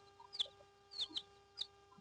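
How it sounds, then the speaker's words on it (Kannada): Native country chicks in a green-netted rearing enclosure cheep and cluck in a few short high peeps, faint and scattered over a low steady hum. "ಇಲ್ಲಿ ಒಂದು ಬ್ಯಾಚ್ ಮರಿ ಬಿಟ್ಟಿದ್ದೀವಿ"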